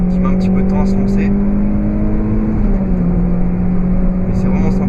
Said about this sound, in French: Donc, on a un moteur qui met un petit peu de temps à se lancer.